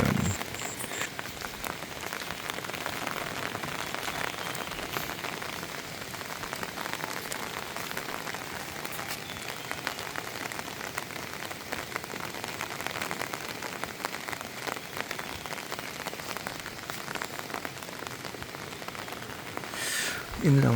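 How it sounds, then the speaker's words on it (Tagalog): Steady rain pattering on surfaces at a campsite in Ekings Recreational Park at dawn, a soft, even hiss of drops with occasional louder splashes, continuing throughout without talk. "umuulan ngayon"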